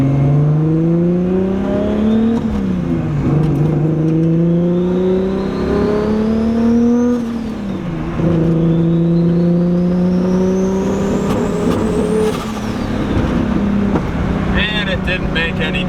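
A car with a rough-running engine fault is driven on the road, its engine loud and close as the revs climb repeatedly and drop at each gear change.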